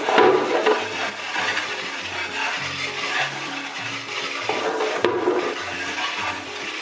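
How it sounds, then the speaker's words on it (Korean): A light spray gun sends a steady stream of water over parts of an LG dual stand air conditioner, a continuous close rushing wash with shifting splashes as the parts are rinsed. "꼼꼼하게 이렇게 헹궈줍니다"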